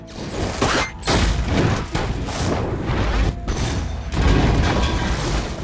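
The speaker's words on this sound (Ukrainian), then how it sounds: "Відбувається вибух." A loud, sustained rumbling blast aboard a submarine with heavy low-end roar and crashing debris, continuing for several seconds with a few sharper thuds.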